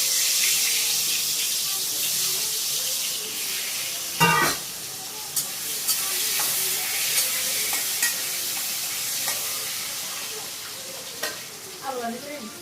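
Potatoes fry in hot oil with a continuous close sizzle, broken by sharp spatula clatters and scrapes against the pan at irregular intervals.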